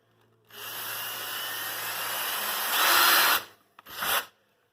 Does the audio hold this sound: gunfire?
no